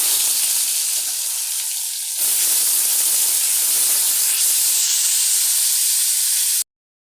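Potatoes dropped into hot oil, a loud steady sizzle and hiss close up, briefly dipping before picking back up, then cutting off abruptly.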